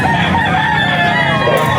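A rooster at the Bocaue pet market lets out a loud, close crow that fills the short moment, with market noise faintly behind it.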